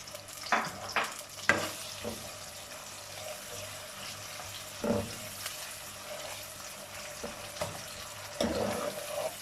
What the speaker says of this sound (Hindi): जैसे कौरमे के लिए फ्राई करते हैं प्याज, वैसे हमने इसे फ्राई करना है अच्छे तरीके से हिलाते हुए